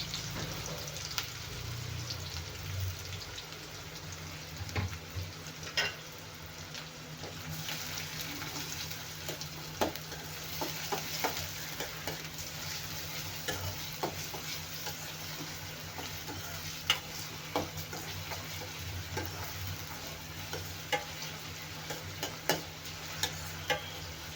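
Finely chopped onion sizzles and crackles steadily as it fries golden in a pan, with occasional sharp ticks and stirring scrapes, at a low, even level and with no voices.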